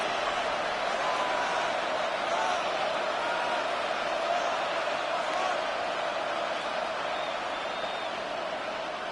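A stadium crowd at an American football game roars steadily ahead of a third-and-goal play, a dense, continuous wall of cheering and noise with no break.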